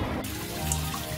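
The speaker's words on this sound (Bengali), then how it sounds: "মাছ ধুয়ে নিচ্ছি পরিষ্কার করে" Tap water runs steadily over fresh hilsa fish being rinsed in a kitchen sink, a close, continuous splashing flow with no one talking.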